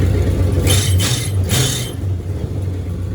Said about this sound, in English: She settles right back into that same idle